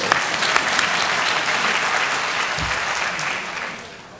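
An audience at a senior awards ceremony claps steadily for an industrial technology award, the dense applause holding loud throughout before tapering off near the end.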